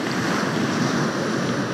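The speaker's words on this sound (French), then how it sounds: "juste en écoutant le bruit des vagues" Ocean waves break on the shore in a continuous, fairly loud wash of surf, with some wind noise mixed in.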